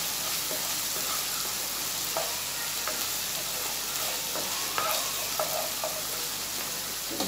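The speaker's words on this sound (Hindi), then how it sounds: "हम भूनेंगे।" Vegetables fry and are stirred in a pan, a soft continuous sizzle with light scraping and occasional spatters, fairly quiet and steady throughout.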